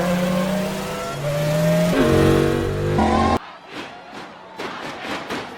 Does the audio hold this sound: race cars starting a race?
yes